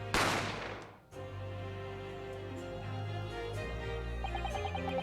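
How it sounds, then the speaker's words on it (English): A gunshot sound effect from The Great Ace Attorney Chronicles video game fires as one sharp, loud blast at the start, followed by a quieter bed of sustained music. "I didn't have time to think about where the sound of the gunshot had come from."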